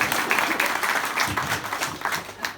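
A crowd at a magic show claps at the close of a recreation-centre performance, loud, dense applause rolling steadily and tapering slightly toward the end.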